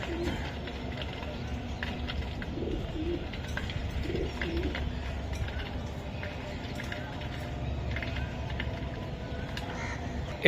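Soft, low cooing from racing pigeons at a pigeon farm repeats now and then over a steady background hum, with a person talking nearby.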